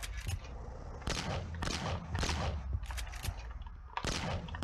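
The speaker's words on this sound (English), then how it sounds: "Back to the shotgun." A shotgun fires repeatedly in the video game Boxhead 2Play, giving about six loud, booming blasts with brief crackling tails, spaced unevenly over a few seconds.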